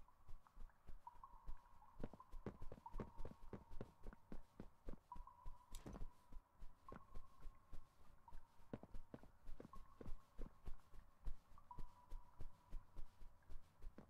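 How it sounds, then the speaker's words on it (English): Heavy, regular footfalls thud in a dim Poppy Playtime setting, a steady rhythmic pounding like a heartbeat under a faint hum, with one brief sharp accent partway through. "You hear that, the footstep noises too, right?"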